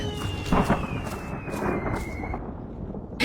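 Thunder and rain in a Hindi cartoon story about a poor fisherman whose hut leaks in the downpour: a steady, fairly loud rain hiss with low rolling rumbles and a sustained tone over it, no voices.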